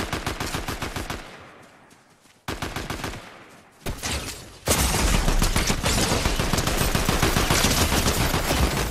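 Rapid automatic gunfire in Fortnite with rhythmic shots, loud and close, dropping briefly in bursts before settling into a dense, continuous barrage.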